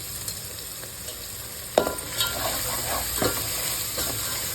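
Ingredients sauté in oil for mutton biryani, with a steady sizzle and a few distinct spatula scrapes and clinks against the pan, close and moderately loud, with no speech.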